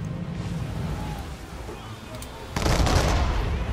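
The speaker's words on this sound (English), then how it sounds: "Oh, for God's sake, stop shooting at me." Gunfire from a sailing warship in Assassin's Creed 3 Remastered roars as a steady, dense rumble of shots over sea noise, then swells into a louder, heavier burst of fire near the end.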